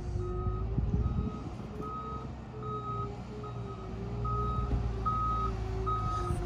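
A concrete truck reverses at a barn shed slab pour, its backup alarm beeping at a steady, regular pace over the loud, continuous rumble of the diesel engine nearby.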